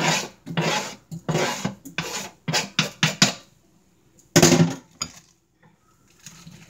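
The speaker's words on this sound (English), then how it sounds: "Now I'll cut my lettuce." A knife slices lettuce into fine strips on a cutting board, giving a run of quick, crisp, rasping strokes in an uneven rhythm, then a pause and one more firm cut, heard close up.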